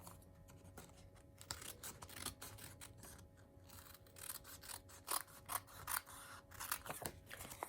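Scissors snip and trim excess paper from a card envelope flap for a steampunk-themed card, giving quiet, close cutting crunches and rustles in uneven bursts.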